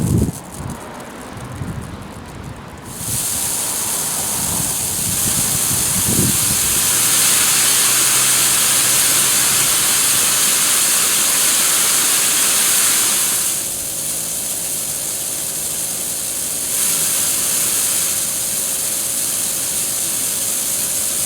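A loud, steady hissing spray from a garden hose sprinkler with air from a compressor injected into the water line runs for a long stretch with a faint mechanical hum underneath. Near the end it drops slightly in intensity.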